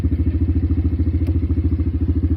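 A sports motorbike being ridden, its engine giving a steady, throbbing low rumble with a fast regular pulse, close and fairly loud throughout with no talk.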